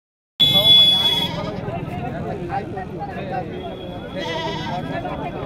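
Goats and kids bleat at a crowded village livestock market, a loud cry at the start followed by further bleats over a steady murmur of people talking and market bustle.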